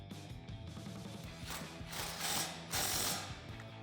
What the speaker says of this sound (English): We are going to be reconnecting that with the factory bolt and tightening that back up with a 17mm socket.